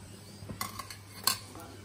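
Fried moong dal kachori being lifted out of hot oil, with a few quiet metallic clinks and scrapes of a slotted spoon against a pan, a louder clatter near the end over a faint steady hum.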